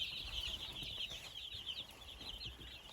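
Some 280 young chicks in a brooder peep and cheep in a steady, dense chorus of high chirps, continuous and moderately close, with no voices.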